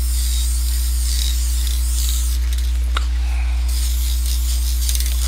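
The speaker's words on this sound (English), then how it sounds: "I'm going to spray a little bit of primer on this" A spray can releases primer onto a miniature in a short hissing burst, close up over a constant low electrical hum.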